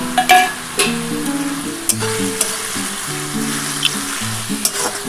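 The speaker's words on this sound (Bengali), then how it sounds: "হেলেঞ্চে শাকের মধ্যে বড়িটা দিয়ে দিলাম।" Helencha greens and sun-dried lentil bori fry together in a pan, making a loud, continuous sizzle with a few sharp clinks and stirring knocks throughout.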